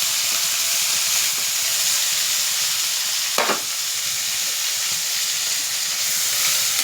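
Green chillies, tomato and curry leaves frying in a pan, a steady loud sizzle and hiss throughout, with a brief stir-like scrape midway.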